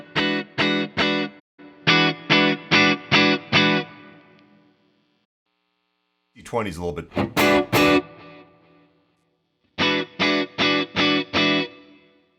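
An electric guitar through a Fractal FM9 live amp preset strums tight, distorted chord bursts in quick rhythmic groups, separated by pauses, with a brief spoken aside between phrases.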